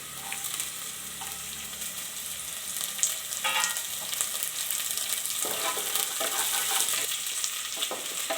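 Mutton chilli fry cooking in a pan: steady sizzling and frying with scraping stir strokes of a spoon, close and continuous, with no talking.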